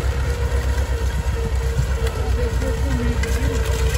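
A Valmet 85 ID tractor engine drones steadily and loud while pulling a PLB Baldan planter through a field during planting, a continuous low rumble with no breaks.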